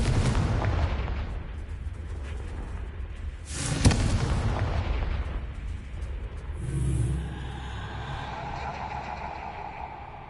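A Confringo blasting spell explodes in Hogwarts Legacy: a deep, booming blast with a sharp crack at its peak, then a rumbling decay and a second, softer surge of noise.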